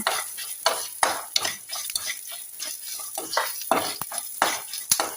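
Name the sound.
spice ingredient being roasted and stirred in a pan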